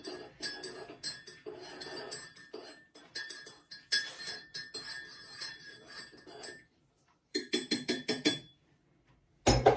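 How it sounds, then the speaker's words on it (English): A metal spoon stirs sugar into a mug of coffee, making quick, bright clinking taps against the ceramic in rhythmic bursts, with a brief pause before the stirring resumes and then a final clink. "I'm going to drop it in while I'm stirring."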